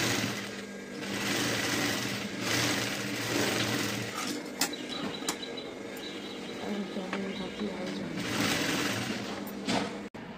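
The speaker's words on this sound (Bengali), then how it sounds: "এবার আমি সেম টু সেম মার্জিনে সেলাই দিয়ে নেব।" A sewing machine stitches a blouse seam in steady whirring bursts with short pauses between runs, joined by small mechanical clicks and taps. A faint voice can be heard in the background.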